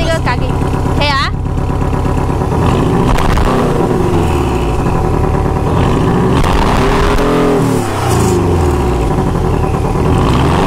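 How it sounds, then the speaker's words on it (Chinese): A Porsche Cayman 718 in Sport Mode, mid-engine and rear-wheel drive, revs hard up close, its loud engine note climbing and falling in repeated sweeps with a brief sharp blip near the start. "我踩一下 Porsche 的声音给你们听"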